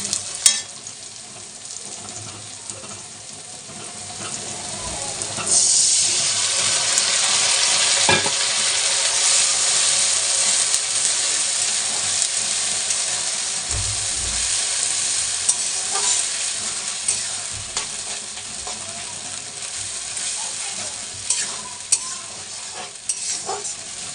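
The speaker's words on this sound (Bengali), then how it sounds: "চিকেন আমার এখানে খুব ভালো করে ভাজা হয়ে গেছে, দেখতে পাচ্ছ।" Chicken sizzles steadily in a hot pan with fried onion and spices, the broad frying hiss swelling after a few seconds and holding loud, with occasional stirring clatter and no talk.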